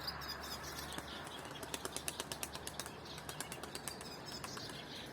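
A burst of rapid wing flapping as a pigeon flies in and lands, loud and close, with faint chirps in the background.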